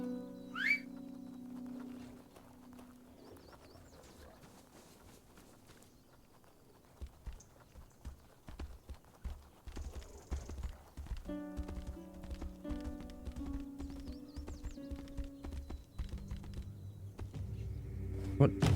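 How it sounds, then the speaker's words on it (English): Horse hooves clip-clopping in the video game Tainted Grail: The Fall of Avalon, a rhythmic run of steps under game music and whistling, with someone talking at times. "Should I go ahead and call the horse?"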